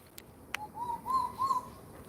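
Pigeons or doves coo softly in a few rising, rounded notes, somewhat distant over a quiet outdoor background, with a couple of faint clicks before them.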